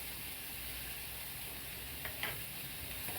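Wheat bran vegetable being stir-fried in a pan, a faint, steady sizzle with a couple of soft scraping stirs near the end.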